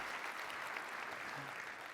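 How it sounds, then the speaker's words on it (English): Conference audience applause for a speaker on stage, a continuous even patter of many hands, quiet and distant, with no talking over it. "how about one more round of applause for Patrick?"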